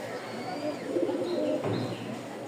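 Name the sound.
pigeon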